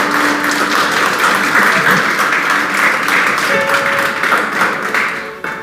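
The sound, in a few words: church congregation applauding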